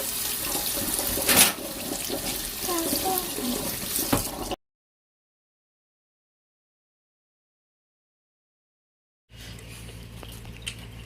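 Running tap water rinses apples in a sink, a steady broadband splash for several seconds that cuts to total silence, then resumes more softly near the end.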